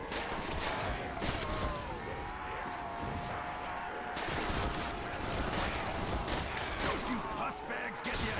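A PPSh submachine gun fires in a zombies video game. Quick bursts of automatic fire come out loud and rapid, mixed with clanks and other game noises, and a voice talks over parts of it.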